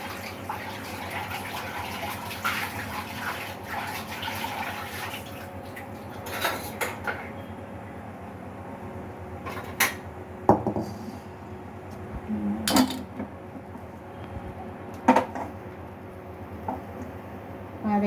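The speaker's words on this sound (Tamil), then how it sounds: "இப்போ நான் வேறு பாத்திரம் மாற்றிக்கிறேன்" Metal cooking pots clink and clatter in a village kitchen while contents are strained from one vessel into another, with sharp scattered knocks over a low, steady background of faint pouring and bustle.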